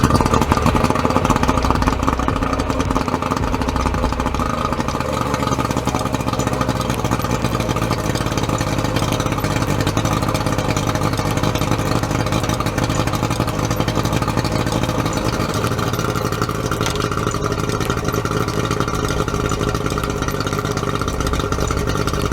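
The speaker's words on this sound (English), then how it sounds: "let me turn it on for you guys so you can hear it" A skiff's outboard motor, due for a carburetor cleaning, runs at a steady idle throughout, a continuous close-up drone with no talking.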